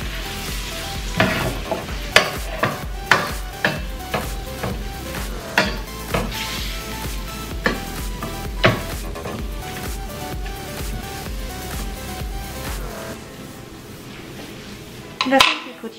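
Flour being stirred into leftover food in a pan, a spoon scraping and clinking against the metal in repeated strokes over a soft sizzle, fairly close and moderately quiet.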